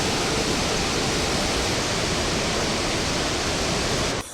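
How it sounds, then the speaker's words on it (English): Kaieteur Falls, the world's largest single-drop waterfall by volume, roaring as a loud, dense, unbroken rush of falling water that cuts off abruptly near the end. "Kaieteur Falls is the world's largest single-drop waterfall by volume."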